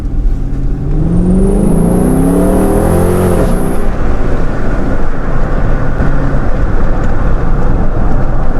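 A 2013 Dodge Charger R/T AWD revs hard and accelerates, its engine note rising in pitch for a few seconds and then settling into a loud, steady roar close by.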